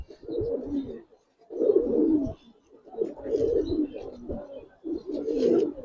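Giribaz pigeons of silver khaki colouring coo close by in four rounded, throaty bursts separated by short pauses, with no talk over them.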